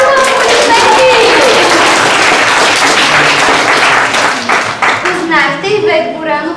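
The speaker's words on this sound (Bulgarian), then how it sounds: "Ами правилно, аплодисменти!" Audience at a 4th-grade graduation ceremony at a school claps loudly and steadily, the dense applause thinning toward the end as children's voices and chatter rise through it.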